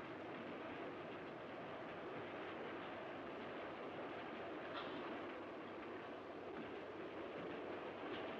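A train runs along its rails with a steady, loud, broadband rumble and faint rhythmic rattling of carriages that holds unbroken and alone throughout.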